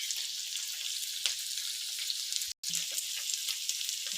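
Rice for sinangag, Filipino garlic fried rice, sizzles steadily in a pan: a dense, even hiss with faint stirring ticks, broken by one brief silent gap midway, and no talking.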